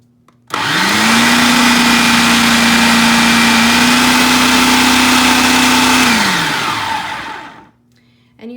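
A food processor whirs on high speed through dough with added milk, starting abruptly, holding a loud steady motor drone for about six seconds, then winding down and stopping.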